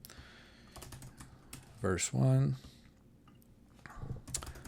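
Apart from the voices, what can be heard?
typing on a computer keyboard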